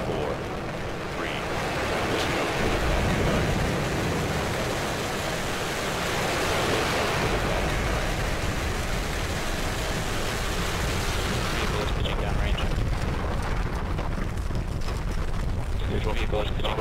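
A SpaceX rocket climbing after liftoff on the Iridium 5 mission gives a sustained, broad roaring rumble, heard from a distance. It stays steady and dense throughout and thins slightly near the end, with no clear speech over it.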